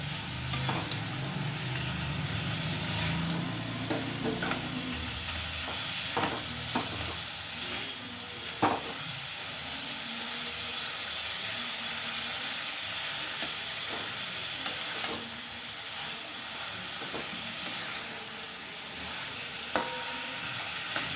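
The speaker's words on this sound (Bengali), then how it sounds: "এবার আমি ডুবুরগুলো দিয়ে আর একটুখানি কষিয়ে নেব" Figs cooking with mashed potato and spices in a pan, a continuous loud sizzle broken by frequent scraping and clicking stirs from a spoon, no one talking.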